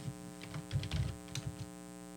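Keys clatter on a computer keyboard in a short burst of several quick, fairly soft taps over a steady background hum.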